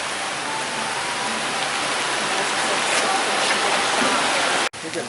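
Heavy rain pours down at a nature park, a dense, loud, steady hiss of water that fills the whole scene before cutting off abruptly near the end.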